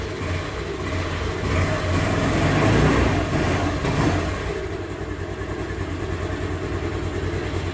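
A scooter engine idles after a morning kickstart, a steady mid-pitched putter that swells briefly as it is revved slightly, then settles back to an even idle.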